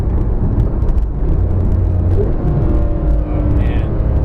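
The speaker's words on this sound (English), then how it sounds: "the exhaust on this car sounds so good" A Porsche GT3 exhaust rumbles through downshifts, a loud, deep burbling drone with wavering engine tones heard from close by, with no talking over it.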